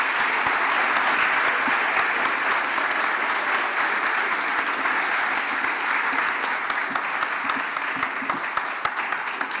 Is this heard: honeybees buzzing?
no